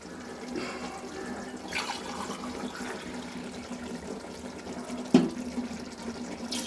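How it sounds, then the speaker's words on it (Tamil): Water from a tumbler pours steadily into a Bangalore-style dhonne biryani pot, a soft continuous splashing with a sharp clink near the end. "இப்போ வந்து நம்ம தண்ணி விட்டுக்க போகிறோம்."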